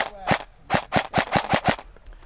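Airsoft guns fire during an outdoor airsoft game: about eight sharp, evenly spaced pops in quick succession, fairly close and loud, with brief quiet gaps between them.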